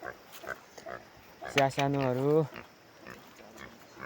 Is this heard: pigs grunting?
yes